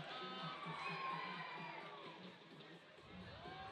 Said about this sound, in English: listen to the crowd go crazy here at Sandakan